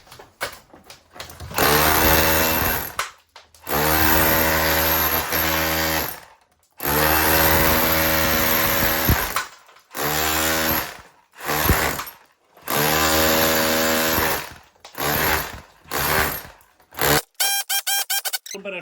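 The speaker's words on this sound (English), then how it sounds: "we're just going ahead now with the Milwaukee, and we're just going to do a bit of chipping just to show you" A Milwaukee power tool chips brick in repeated loud hammering bursts, each lasting a few seconds and separated by short pauses. The chatter is harsh and close, and it ends in quicker, shorter bursts.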